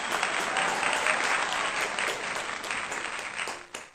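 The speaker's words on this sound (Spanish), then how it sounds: "Démosle un fuerte aplauso al Señor." A church congregation applauds steadily, loud and dense, then the clapping thins out and fades near the end.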